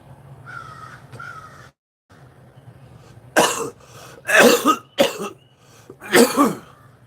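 Several harsh, loud coughs in a row after inhaling smoke, close by, following a couple of softer cawing crow calls in the background.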